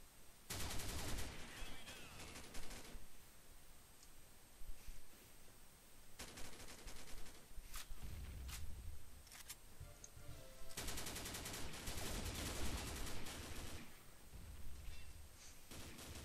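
Rapid automatic gunfire from the online shooter Combat Arms crackles in loud bursts, with short pauses between volleys and no talk over it.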